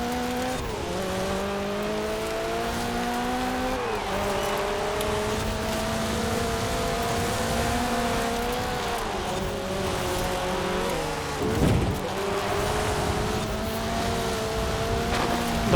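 A Toyota Celica in the Forza Horizon 4 racing game drones on at steady high revs, the engine note climbing and dropping through gear shifts, with a brief tire scrub near the end and no talking.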